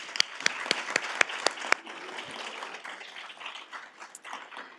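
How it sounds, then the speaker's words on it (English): A small audience at a women's leadership and philanthropy event gives light applause, opening with a few sharp distinct claps before settling into a soft, steady patter. "So let's give a round of applause for this."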